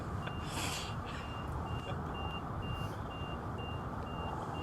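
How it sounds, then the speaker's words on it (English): Faint, evenly spaced reversing beeps repeat over a noisy, rumbling background of traffic and wind. "Quite a lot of the old beep beeps going on here"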